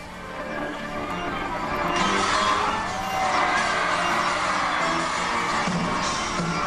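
A concert crowd erupts in an ovation for an Argentine singer at an opera-house stage, cheering, whooping and shouting that swells and holds, loud and enveloping.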